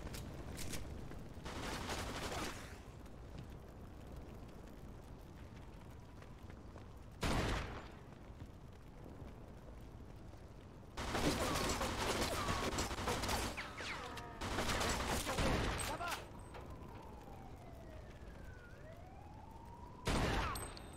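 Gunshots from Mafia 2 ring out in separate loud volleys and single sharp blasts across a long stretch, with quieter gaps between them and a siren-like wail rising and falling in the background.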